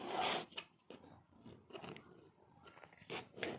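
Tarot cards being shuffled by hand, giving crisp papery riffles and scrapes in several short bursts, close and fairly quiet with no talking.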